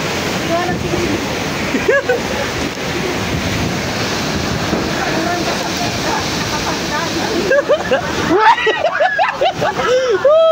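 Storm-surge waves crash and splash continuously during Super Typhoon Uwan, with heavy wind buffeting the microphone throughout and excited voices talking over the surf, the roar growing rougher and more broken near the end.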